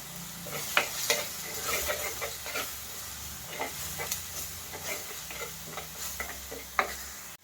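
Curry leaves sizzle in hot oil for a mackerel chili curry, a continuous frying hiss broken by scattered stirring clicks and scrapes, close and fairly quiet, with no talking.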